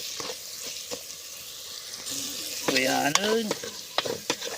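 Pakbet vegetables, including okra, string beans and chili, sizzling and being stirred in a pan at home in the province, a close steady fry with scraping strokes, and a voice briefly speaking over it.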